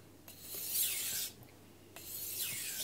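Knife blade drawn in long strokes across a Morihei Karasu 9k whetstone, two close, smooth rasping passes that swell and fade, with a short pause between them.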